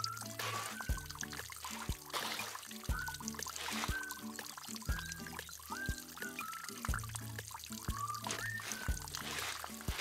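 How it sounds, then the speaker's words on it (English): Cartoon water pouring in repeated gurgling bursts with short rising whistle-like tones, steady and fairly close over a bouncy musical backing, no voices. "water! Lots of water!"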